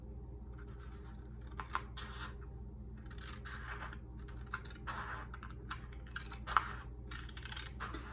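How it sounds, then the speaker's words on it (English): Scissors snipping through a paper library pocket card along a score line, a quiet run of small crisp cuts and scrapes close by, with faint clicks scattered over a steady low background hum. "I'm going to cut along that score line"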